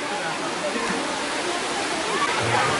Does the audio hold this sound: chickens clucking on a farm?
no